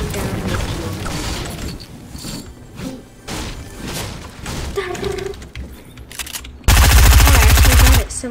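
Rapid machine gun fire in the video game Fortnite, a loud dense burst filling the final second and a half after a stretch of busy game sound with mechanical clatter.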